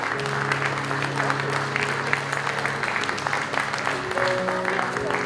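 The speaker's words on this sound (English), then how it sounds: "Come on, give him a hand clap" A church congregation at a Samoan-night youth crusade claps together in a steady, dense round of applause, with sustained music tones beneath it throughout.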